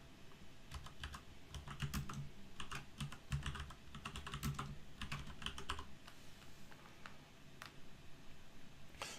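Steady keyboard typing as a sheet name is entered in a spreadsheet program, with rapid clustered keystrokes close to the microphone, easing off toward the end.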